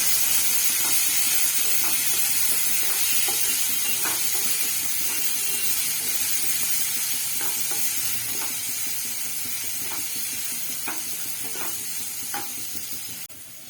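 Red lentils (masoor dal) fry in hot oil in a pan, a steady close sizzle with periodic stirring scrapes and clicks throughout, gradually easing slightly toward the end; no talking.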